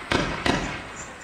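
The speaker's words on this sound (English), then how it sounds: "Roman candle." Two Roman candle shots fire about a third of a second apart, each a sharp nearby pop followed by a brief hiss. The pair is loud and clear, with no talking.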